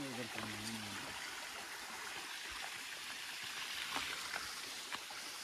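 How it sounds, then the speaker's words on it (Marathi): Steady rushing of flowing stream water fills the scene, a continuous broadband wash with a brief low voice at the start. "हे बघा पाणी."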